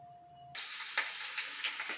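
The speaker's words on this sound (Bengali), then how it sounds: "তেল দেওয়ার পরে ক্যাপসিকাম পেঁয়াজ কুলি আর পেঁয়াজের টুকরোগুলো কড়াইতে ছেড়ে দিয়েছি। এগুলো ফ্রাই হবে।" Capsicum and onion pieces hit hot oil in a kadai with a sudden loud hiss that keeps going as a steady sizzle, with small sputters on top after a moment of near silence.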